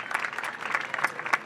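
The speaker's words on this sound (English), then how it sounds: "Let's give a round of respectful applause for Bernard Tyson." An outdoor crowd at a playground reopening ceremony claps steadily, a dense patter of many hands at moderate distance with no voices over it.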